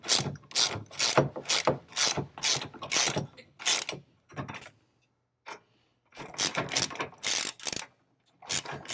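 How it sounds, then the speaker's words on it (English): A ratchet wrench with a 19 mm deep socket tightens the strap bolts on a 56-gallon replacement fuel tank for a 2011-16 Ford Powerstroke 6.7L, giving loud bursts of rapid clicking with a short pause midway. "then with a 19 mil deep socket, secure them into place."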